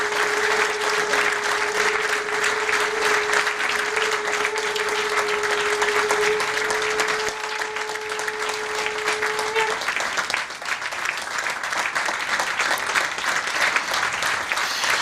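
Sustained applause from a crowd at a celebration event, dense steady clapping that continues for the whole stretch, with a faint tonal hum over the first part.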